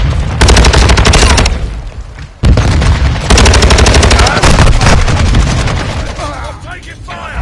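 Automatic gunfire in Call of Duty Modern Warfare 2, loud rapid bursts hammering in two long runs with a short break between, then fading to quieter scattered noise at the end.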